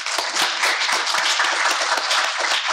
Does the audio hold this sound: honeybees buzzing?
no